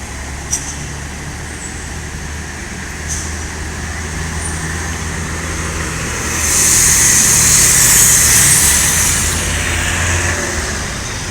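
A bus pulls into a terminal, its engine rumbling steadily amid general road and traffic noise, with a hiss of air brakes or exhaust rising partway through.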